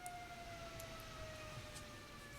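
A faint ambulance siren wails in the distance outside a window, a thin steady tone under a low background hum.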